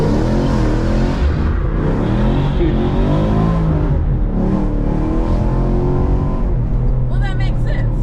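A Camaro SS in first gear accelerating hard during a sliding run, the engine note climbing and dense throughout, with people talking over it inside the car.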